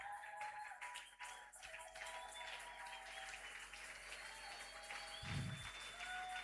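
A church congregation breaks into sustained applause, a dense wash of clapping that holds steady throughout and swells slightly near the end, with a low thump partway through.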